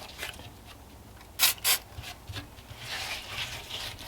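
Stain being rubbed by hand into the dark spots of a plaster Bigfoot foot cast, soft close scrubbing strokes with two brief louder rubs in the middle and gentler rubbing after.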